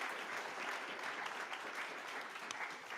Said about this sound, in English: Let's give a round of applause for all the panelists.